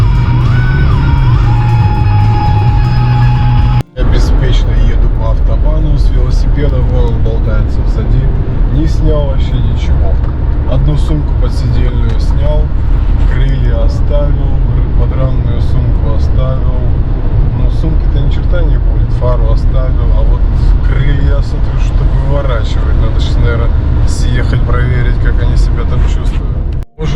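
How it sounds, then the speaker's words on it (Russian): Steady, loud roar of autobahn traffic heard while cycling alongside, with vehicles rushing past continuously and wind buffeting, and a voice talking over the noise at times. "Я беспечно еду по автобану с велосипедом"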